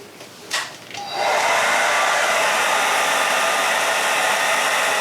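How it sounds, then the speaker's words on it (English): A hair dryer blows warm air onto mustache wax, starting with a few soft bumps and handling noises before roaring up into a loud, steady, broadband whoosh that holds to the end. "Warming the mustache wax with a hairdryer."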